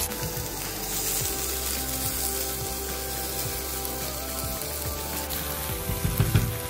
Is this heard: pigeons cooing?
no